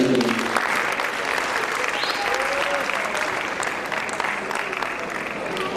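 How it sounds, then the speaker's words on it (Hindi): An audience at an art gathering claps steadily and loudly throughout, a dense continuous applause with some voices audible underneath. "तालियां बजाइए।"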